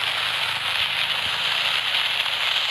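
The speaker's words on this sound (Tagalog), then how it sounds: "Ito, firecracker lang to." A firecracker in a fireworks game sprays out a steady, loud hiss like a fountain, continuous and unbroken for the whole stretch, with no talking.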